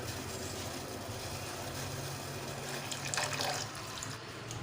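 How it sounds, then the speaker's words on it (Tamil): Milk pours into boiling water spiced with masala for tea, making a steady liquid rush over the bubbling simmer, with a brief brighter splash near the end. "இப்போ நம்ம பால் ஆட் பண்ணிக்கலாம்."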